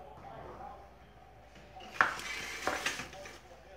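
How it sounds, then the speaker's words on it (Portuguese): Baked pork chop pan pulled from a home oven, with a metallic clank of the pan and rack followed by light rattling and scraping, moderately close and fairly quiet. "Vou tirar do forno."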